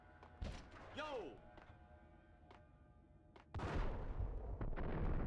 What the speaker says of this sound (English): This shotgun is lethal.